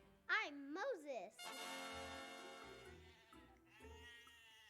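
A sheep gives a couple of wavering bleats up close, then a person speaks over the quiet background.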